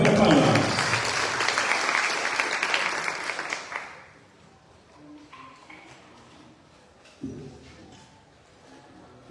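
An audience applauds at the opening ceremony of an academic year, loud and dense for about four seconds before dying away. A voice then speaks over a quieter room.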